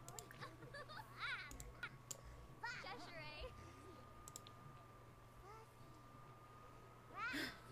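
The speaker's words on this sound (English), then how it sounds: "Our cat is sick again, I think." A pet cat in The Sims 4 video game meows several times in short, wavering calls, fairly close, over a steady background hum and soft game sounds.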